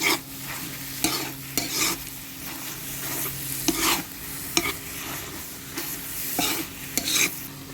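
Dried shrimp and mango being stirred in a frying pan, a continuous sizzle broken by regular scraping strokes of the spatula against the pan, close and fairly loud.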